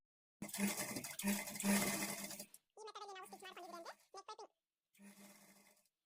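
A sewing machine runs a short burst of rapid, steady stitching on blouse neck piping, loud and close, then stops. Speech follows in separate short bursts.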